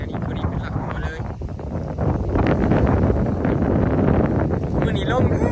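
Strong dry wind blows outdoors at a rural spot where trees are being cut, roaring steadily into the microphone and swelling into a heavier gust partway through, with a voice faintly audible beneath it.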